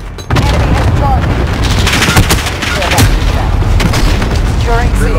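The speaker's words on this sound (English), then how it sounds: "Enemy cluster strike incoming." Cluster strike explosions in Call of Duty Modern Warfare, with loud, dense booms and rumbling blasts in rapid succession mixed with gunfire, continuous and close for several seconds.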